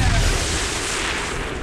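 An enemy weapon firing in the video game XCOM 2, a single heavy blast that rolls into a long, loud, noisy boom and then fades slowly.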